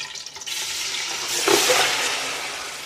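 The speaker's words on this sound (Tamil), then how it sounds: "ஒயில் சூடாகிட்டு என்ன கொதிக்கு பாருங்க கொட்டினா சரியா பாருங்க" A loud, hissing sizzle swells up close and keeps crackling steadily, like food dropped into hot oil.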